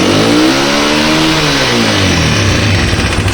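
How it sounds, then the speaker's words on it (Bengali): A Japanese CG 125 motorcycle with a pickup fault, its RPM reluctant to climb, revs in one continuous throttle blip: the engine note swells upward, holds, then sags back toward idle, loud and close with no voices. "আমি একটু এক্সেলেটর দিই, আপনারা একটু খেয়াল করুন।"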